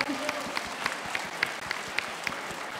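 An audience applauds for actress Anna Shaffer at a convention panel, a steady crowd of clapping with a few crisp individual claps popping out in a regular rhythm and a voice at the start.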